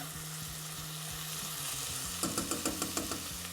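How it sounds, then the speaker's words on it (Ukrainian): Hutsul-style bograch stew with vegetables being stirred in a pot, a steady low frying sizzle that turns into a quick series of rhythmic scraping strokes near the end, close and without talk. "Знову це все трошки перемішаємо"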